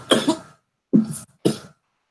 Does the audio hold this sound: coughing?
yes